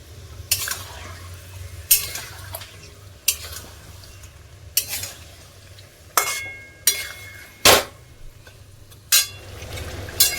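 Chicken being stir-fried in a pan for chicken tehari, with a spoon scraping in sharp, irregular strokes about every second over a quiet sizzle and low hum, with no voices.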